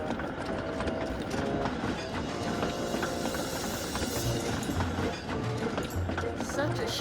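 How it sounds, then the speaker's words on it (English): A long goods train pulls away, led by an engine named Neville and headed for Kelsthorpe. It is a steady, rolling rumble with a busy layered clatter that stays loud throughout. "he saw Neville leaving with a long goods train headed to Kelsthorpe"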